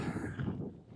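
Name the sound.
wind blowing into the microphone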